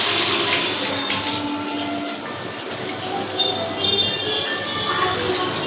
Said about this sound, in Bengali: বেশি করে জল দিয়ে দিলাম, মাংসটা সিদ্ধ হবে বলে